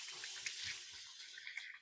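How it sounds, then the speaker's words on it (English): Hands being washed under a running kitchen tap, a steady, fairly quiet hiss of flowing water with small splashes as the hands move through the stream. "Let me wash my hands real quick."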